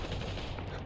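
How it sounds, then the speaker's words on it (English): Gunfire in the VR battle royale game Population One, heard as a continuous dense burst of shots filling the short moment at steady loudness with no talk over it. "Gunshots going off."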